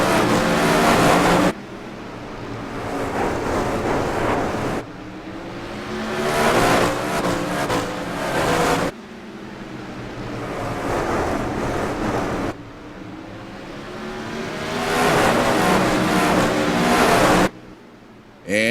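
360 sprint cars at Irwindale Speedway roar back to green on a restart, loud engines surging and fading in long sweeping passes as the field circles the oval.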